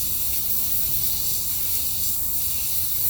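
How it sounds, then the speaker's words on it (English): A hose sprays water down a horse's legs after a hard cross-country workout, a steady, close, continuous hiss at even strength throughout, with no voices. "I'm just gonna spray it down so I don't see any studs coming off."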